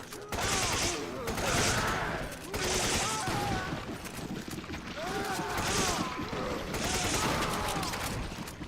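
Gunfire rings out in the video game Resident Evil 5 as shots are fired at a mutating monster, several bursts of shooting layered over game sounds and effects, with a voice talking faintly beneath.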